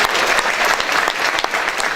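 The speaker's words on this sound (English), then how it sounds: "we're going to make sure that you give them a big round of applause" Audience at a memorial benefit show for a prostate cancer coalition breaks into loud, dense applause filling the room, steady and close with scattered sharp claps.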